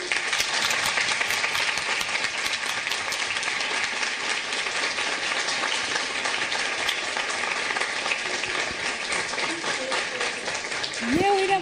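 A group of children claps together to thank space agency scientists, with dense, steady applause filling the whole stretch and a voice rising briefly at the very end.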